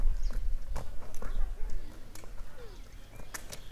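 A young horse walks at a steady pace, its hooves clip-clopping close by in an uneven rhythm over outdoor background noise, with faint voices at times.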